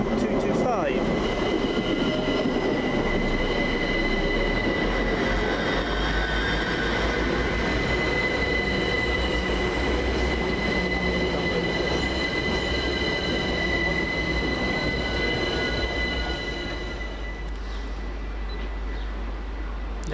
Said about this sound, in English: The 1450 London Overground service from Richmond to Stratford